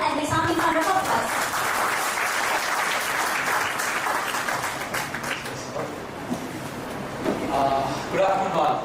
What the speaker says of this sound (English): Let's give him a warm and resounding round of applause.